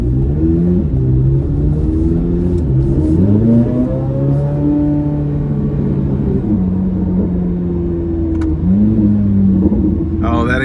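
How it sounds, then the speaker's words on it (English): A 2025 Corvette Z06's exhaust roars loud and close as the car accelerates through several rising pulls with gear changes, staying steady and continuous, heard from inside the cabin. "Oh, that exhaust is something."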